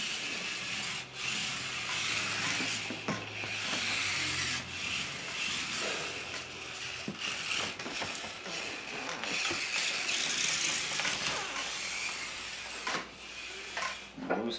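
A small 1:43 scale RC Hummer toy truck crawls slowly across carpet, its tiny geared motor giving a continuous whirring buzz broken by scattered ticks and clicks, close and fairly quiet.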